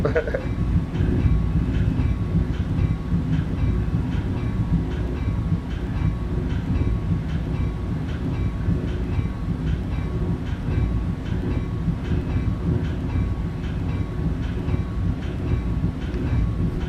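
A North Jersey Coast Line multilevel commuter train in Train Simulator 2019 runs at speed, a continuous loud rumble with regular wheel clicks over rail joints, while someone talks quietly over it.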